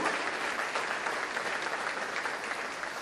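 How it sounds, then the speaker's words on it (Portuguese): A church congregation breaks into applause, a dense, even roar of many hands clapping at once, sustained and steady throughout without talk over it. "Dê um aplauso precioso, um aplauso querido."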